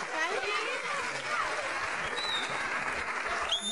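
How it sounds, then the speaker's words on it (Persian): Studio audience applause on an Iranian Nowruz game show, steady dense clapping throughout with a host's voice speaking over it. "تشویق کنید خواهش میکنم"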